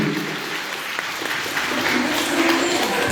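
A concert audience applauds a performer with loud, continuous clapping throughout, a few voices faintly mixed in beneath the steady patter.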